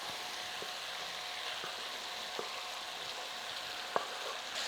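Chicken pieces frying in oil in a pan give a steady, even sizzle, with a few faint utensil clicks and one brief sharper tap.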